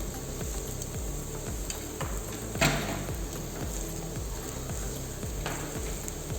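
Beetroot and caraway seeds sautéing in a pan, a steady close sizzle and fry with a faint clatter of stirring running throughout, without any voices.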